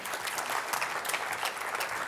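An audience claps at a start-up pitch event at a tech conference. A brief burst of dense, steady applause fills the room at a moderate level, with no speech over it.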